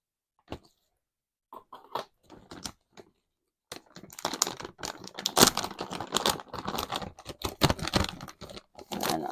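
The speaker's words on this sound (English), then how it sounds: "I'm just going to open the bag" A bag of Grow Tropicals Monstera Philodendron potting mix is torn open with sparse crinkles at first, then a dense run of rustling, crackling plastic close to the microphone.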